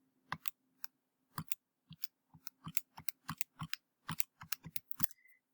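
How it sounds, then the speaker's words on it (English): Fingers tap the keys of a calculator in a quiet room, a rapid irregular run of small crisp plastic clicks, close and faint, with no speech. "pick up your calculator, type that in"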